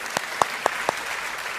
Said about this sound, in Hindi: तो तालियों के साथ दोनों का स्वागत कीजिए